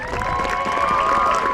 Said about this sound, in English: Let's give the Woburn High School Band a great round of applause